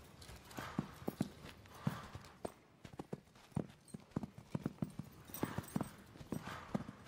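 Hooves of a show-jumping horse clip-clopping in an irregular rhythm, moderately close, each strike sharp against a quiet background.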